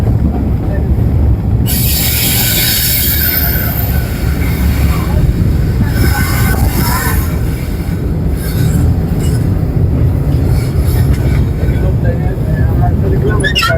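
A passenger train on the Parbatipur to Panchagarh line rolls slowly into Mongolpur railway station in Dinajpur district, a loud, steady rumble of wheels and carriages heard from on board with scattered squeals.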